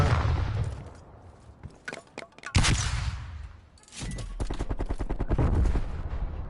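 Rapid bursts of gunfire from MP5 and AK-74U weapons in a Call of Duty match, loud, dense, overlapping automatic fire, with a brief lull in the middle before sustained shooting resumes.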